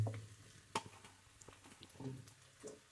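Cut pieces of leftover chapati being stirred into egg podimas in a pan, a soft sizzle of frying under faint scraping stirs and a clack of the spatula, quiet and close, with no voices.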